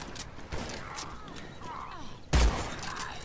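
Gunfire in Evil Dead: The Game, a few sharp shots standing out, one loud burst near the end, under a player's ongoing chatter and game background noise.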